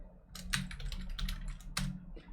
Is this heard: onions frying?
no